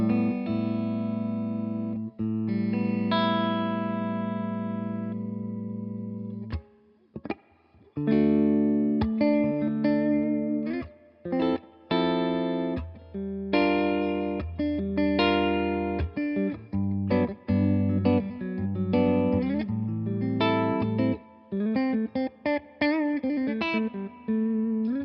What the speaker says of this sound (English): Let's turn the gain a bit lower and just see what this sounds like in a more clean kind